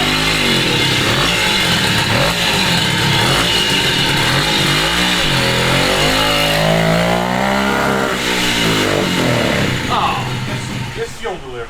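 A 1969 Morini 50cc two-stroke mini bike engine revs hard in rising and falling buzzing sweeps close by, then sags and fades near the end as it starts to die under throttle from a fuel delivery problem.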